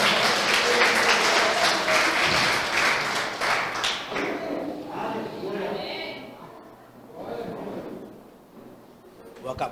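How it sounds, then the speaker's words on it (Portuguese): A church congregation at a Sunday family service claps hands, loud and dense at first, then thinning and fading into scattered claps while a speaker talks over the dying applause. "Consegue bater palmas e se colocar de pé?"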